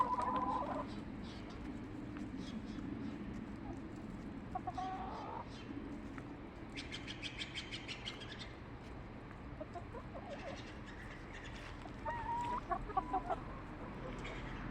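Backyard chickens clucking softly while being fed watermelon, scattered low murmuring clucks with a few sharper bursts, near and fairly quiet, with a person talking at times.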